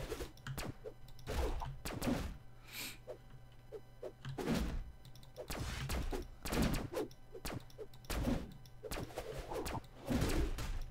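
Cartoonish gunfire bursts from the Brawlhalla fighting game, with repeated sharp shots and whooshes, layered over steady background game music.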